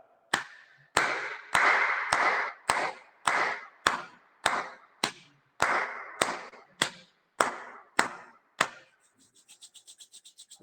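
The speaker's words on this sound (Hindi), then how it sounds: "आप ताली बजा लेते हैं 15 बार" Hands clapping in a yoga session, about fifteen sharp claps in a steady rhythm, loud and close, with no talk; a faint rapid ticking follows at the end.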